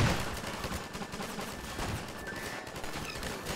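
Shotgun pistol firing in the video game Garry's Mod, a dense stream of rapid overlapping blasts that runs steadily through the whole stretch at a fairly even loudness, with no voices.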